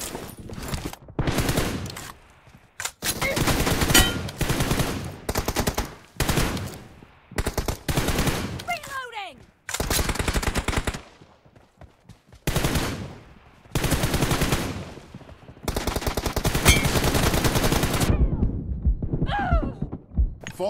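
Rapid automatic gunfire in a shooting video game comes in loud repeated bursts separated by short pauses, with occasional thuds and sharp single shots between the volleys.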